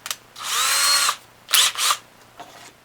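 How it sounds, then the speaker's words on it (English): A small power drill with a 1/16-inch bit whirs into wood in a sustained burst, then two shorter bursts and a faint final buzz, close and loud. "we can go ahead and drill it with our, not that big of a drill bit"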